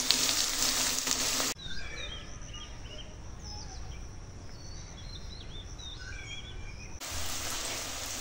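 Dried chilli, chopped onion and crushed garlic hit hot oil before greens are added, giving a loud, bright sizzle at the start and again at the end, with birds chirping outdoors in the quieter stretch between.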